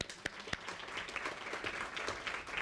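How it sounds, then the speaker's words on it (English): A round of applause from the audience at a WiSTEM2D high tea, a few sharp early claps swelling into soft, steady clapping heard at a distance and fairly quiet. "So a round of applause to us."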